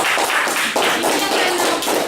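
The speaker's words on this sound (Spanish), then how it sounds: "un aplauso para los compañeros" Classmates in a classroom give a round of applause, a quick rhythmic patter of hand claps and taps from a small group, fairly close and steady throughout.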